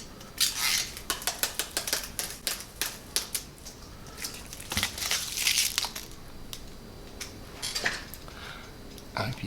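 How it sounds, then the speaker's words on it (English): Peeling the fiddly backing off an etched part for a display of the first twelve Star Wars figures, a close run of rapid crackling, crinkling ticks and tearing rasps that comes in short bursts. "I think what I'm going to do now is peel the backing of this."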